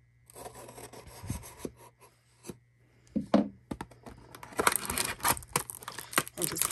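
Cardboard hanger boxes of Mosaic football cards are torn and opened, with scattered rasping, rubbing and crinkling bursts that grow busier toward the end, close and moderately loud.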